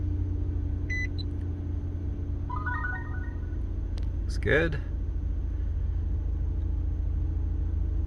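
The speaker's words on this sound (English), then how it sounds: "Okay, so we're ready to start the car." A 2009 Nissan Murano engine idles with a steady low rumble throughout, while a few short electronic beeps and chimes sound and someone speaks briefly.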